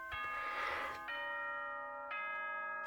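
A doorbell-style chime announcement plays in a Danganronpa fan game: a bright multi-note ding-dong with sustained ringing tones, a second chime following about a second later, clear and alone without talk.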